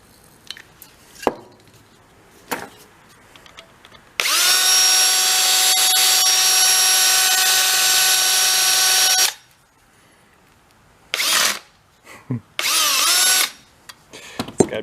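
Electric motor from a Yamaha Kodiak ATV whirring steadily for about five seconds once power is connected, then shorter bursts of spinning, close and loud with no talking.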